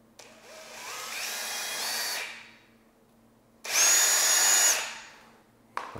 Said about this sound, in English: So I'm gonna have to drill a hole.